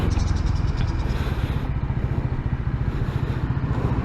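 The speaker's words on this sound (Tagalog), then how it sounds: "Tingnan nyo sa, pag huminto ako dito, mamamatay yung ating engine." A Honda PCX160 scooter idles while stopped at a roadside waiting shed, giving a close, steady low engine rumble with a light mechanical clatter.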